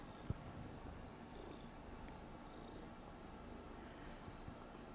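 A pet cat purrs softly and steadily while being scratched, a low continuous rumble close by with no talking over it.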